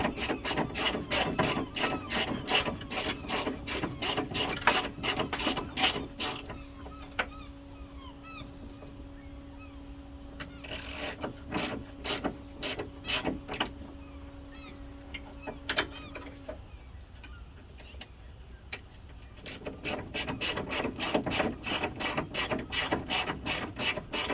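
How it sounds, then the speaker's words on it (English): A hand ratchet clicks in quick, close bursts while tightening fan shroud bolts on a 1998 GMC K1500 during a radiator replacement, pausing midway with a faint steady hum before the rapid clicking resumes. "then I'll tighten everything down at once,"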